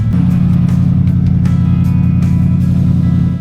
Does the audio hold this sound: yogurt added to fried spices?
no